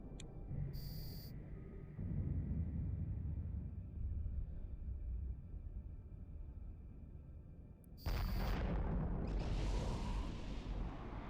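Smart bombs detonate in the space game EVE Online, heavy low rumbling booms rolling through a quiet background, one burst near the start and a louder one near the end.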